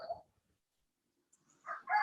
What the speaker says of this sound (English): that was the chicken